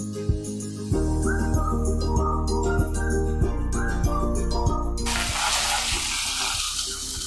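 Mushrooms sizzle loudly in a hot pan with capsicum and garlic-ginger paste, a steady close fry with stirring knocks; the hiss swells abruptly near the end as more ingredients hit the oil.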